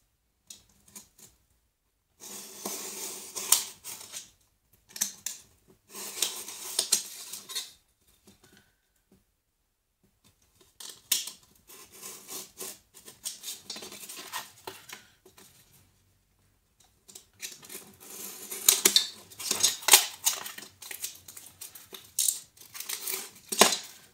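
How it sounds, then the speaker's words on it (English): Craft knife cutting out a shape along a ruler for a tabletop model of Dale's RV, heard as close, quiet scraping strokes in separate bursts with pauses between the cuts. "Take your knife and cut it out."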